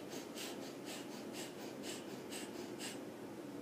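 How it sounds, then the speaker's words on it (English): Rapid rhythmic breathing in and out through the nose with the mouth closed, about a dozen quick soft sniffing pulses at an even pace, faint and close. "we're just going to be breathing in and out of our nose"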